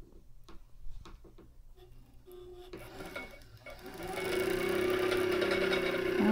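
A White 173 sewing machine starts up after a few handling clicks and taps, then runs in a steady, moderately loud mechanical whir with a rapid rhythmic clatter.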